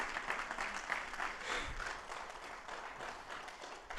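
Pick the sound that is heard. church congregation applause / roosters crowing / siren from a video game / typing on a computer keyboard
church congregation applause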